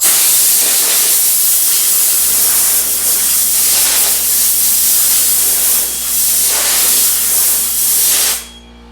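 Compressed air blasts steadily to blow sanding dust off body filler on a GTO restomod, a loud continuous hiss with a low hum setting in beneath, then cutting off at the end.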